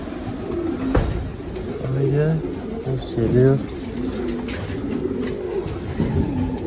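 Ink pigeons cooing in low, soft repeated calls close by, with someone talking over them and a few sharp clicks and rustles around.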